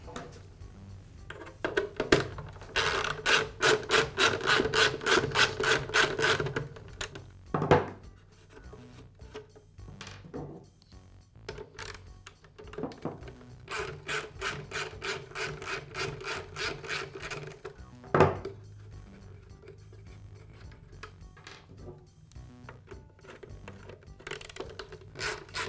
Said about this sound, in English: Next, I'll remove the lower fan housing.